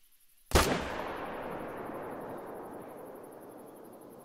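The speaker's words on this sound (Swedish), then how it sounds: "Sista försöket nu med YOLO-skott." A single loud rifle shot cracks out in the hunting game The Hunter: Call of the Wild, its sharp attack followed by a long rolling echo that fades slowly over several seconds, with no talk.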